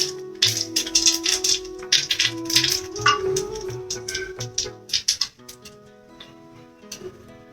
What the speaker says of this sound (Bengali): এবার আমি ফোড়নে দিচ্ছি গোটা জিরে, তেজপাতা, একটি শুকনো লঙ্কা ফাটিয়ে নিয়েছি, আর দারচিনি, লবঙ্গ,